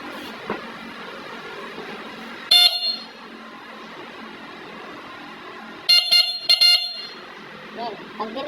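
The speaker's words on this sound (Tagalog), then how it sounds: "Subukan natin yung busina." A motorcycle horn wired through a POSH interrupter relay sounds in three short, loud, pulsing bursts. The first burst is single and the later two come close together, all over a faint engine idle.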